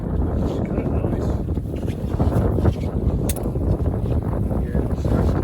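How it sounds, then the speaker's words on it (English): Steady wind rushes and buffets the microphone aboard a Buccaneer 18 sailboat on a lake in early summer, a constant loud low roar with gusty swells and faint splashing underneath. "The wind keeps shifting."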